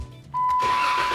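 A car engine turns over and settles into a steady running hum after a Baxter Performance oil adapter install, starting abruptly after a quiet moment and holding an even, close drone with a faint high whine.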